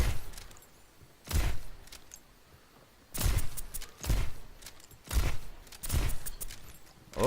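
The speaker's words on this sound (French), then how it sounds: "Utilisation de la grenade de la part de Lou" Grenade explosions in the Overwatch video game, several sharp broadband blasts at irregular intervals, loud and close, with quieter game ambience between them.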